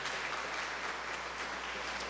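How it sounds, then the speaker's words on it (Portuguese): Church congregation claps together in a continuous, even wash of applause, a dense hiss of many hands heard from a distance at moderate loudness. "E dê uma bela salva de palmas para o Senhor Jesus."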